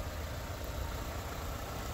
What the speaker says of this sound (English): you can barely hear the engine running, it's so quiet